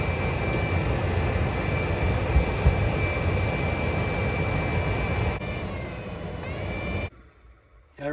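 Replacement blower motor in a Nissan X-Trail running at its highest speed, a steady loud whine with airy rush that holds for several seconds, then shifts tone and cuts out abruptly near the end.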